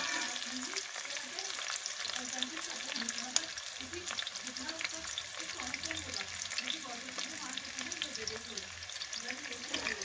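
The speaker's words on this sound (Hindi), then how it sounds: "देखिएगा, अब मेरा प्याज भून रहा है।" Chopped onion frying in a pan for a spiced sweet potato dish, a steady close sizzle and crackle with occasional stirring scrapes, continuing without pause over about ten seconds.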